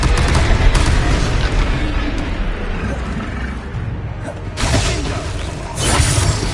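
A Confringo fire spell exploding during a Hogwarts Legacy battle, rumbling booms and crackling bursts in a dense, continuous combat mix, with louder blasts near the end and voices mixed in.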